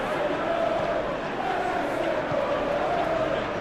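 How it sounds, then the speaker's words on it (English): A packed stadium crowd in a football video game roars and chants continuously, a dense, loud wall of voices with a sustained sung tone running through it. "This place is living up to its reputation as one of the noisiest corners of the footballing world."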